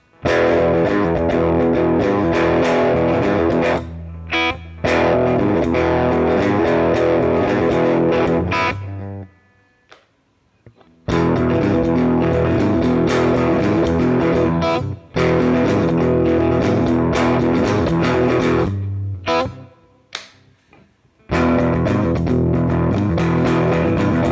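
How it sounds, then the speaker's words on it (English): Crunchy distorted electric guitar chords from a PRS S2 Standard 24 ring out loud, playing in bursts with a few short pauses between phrases. "Now let's check out the crunchy tones."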